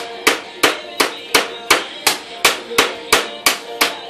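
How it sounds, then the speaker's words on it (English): A whisk beats pudding in a bag, giving about a dozen sharp, evenly spaced slapping knocks, close and clear with no talk over them. "Beating the pudding with the whisk."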